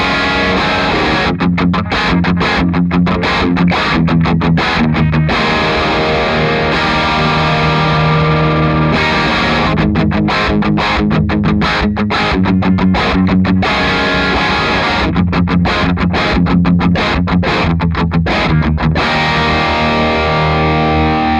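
Electric guitar played through the high-gain band of an amp, heavily distorted, with chugging palm-muted riffs and sustained chords. It is loud and close, with no talking.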